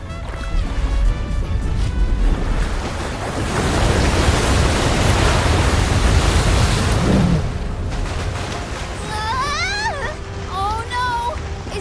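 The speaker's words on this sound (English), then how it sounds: "Trying to bust through the wall of waves with brute force?" Crashing waves in the game Visions of Mana: a loud, sustained roar of surf that swells and then fades, followed by chirpy high game effects near the end.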